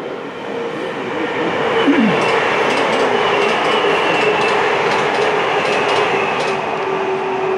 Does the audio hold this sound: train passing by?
yes